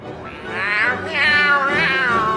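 Three drawn-out, wavering meows come in quick succession, loud and close, in a video game where players repeatedly imitate a cat.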